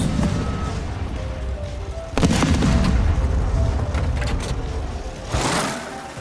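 Bomb explosion in the War Thunder video game: a loud, sustained rumbling boom with crackling bursts that swells near the middle and rises again toward the end, heard alone without talk.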